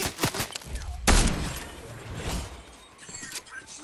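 Gunfire in a video game: a sharp crack about a second in, followed by a long noisy decay and scattered smaller impacts, with voices around it.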